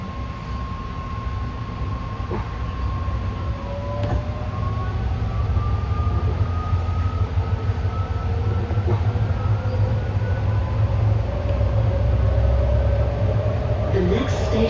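A BART train on the orange line in the Oakland area accelerating as the brake releases and power comes on, with a loud, steady rumble and rising whine heard from the cab.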